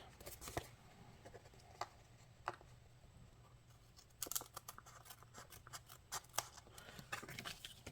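Paper being trimmed for a handmade Christmas card, with scattered crisp snips and cuts interspersed with faint rustling and handling noises at close range.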